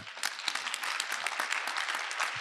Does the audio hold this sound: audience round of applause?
yes